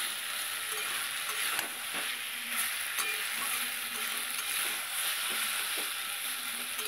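Water lily fritters in a salted frying pan give a soft, continuous sizzle broken by scattered scrapes and taps of stirring, fairly faint, with no voices.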